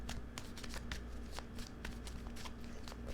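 Chakra Wisdom Oracle cards shuffled by hand, a steady run of soft, close riffling taps over a constant low hum, with no talking.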